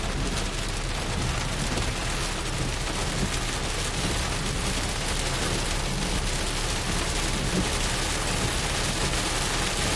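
Hail pours down during a thunderstorm near Stockton, California, as a dense, loud, unbroken roar of pelting impacts that lasts the whole ten seconds with no talking.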